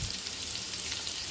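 Carrot, a handful of coriander leaves, half-lemon-sized tamarind and a tomato sauté in a pan, giving a faint, steady hiss of frying with no talking.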